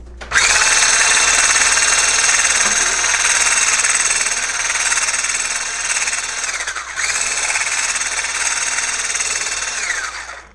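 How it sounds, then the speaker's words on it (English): An electric whisk whips shea body butter in two long runs of loud, close, high-pitched motor whine. There is a brief dip between the runs, then the whine cuts off at the end. "Just going to dip your whisk into it and whisk it nicely."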